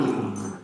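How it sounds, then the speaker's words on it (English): A dog grumbling and whimpering in her bed, one short, close growl that trails off with a slight whine. "And that's my dog, she's going crazy in her bed."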